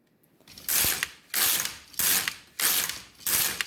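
An LK150 knitting machine carriage is pushed back and forth across rows of sock yarn, making five loud ratcheting passes at a regular pace with brief pauses between them, close and alone.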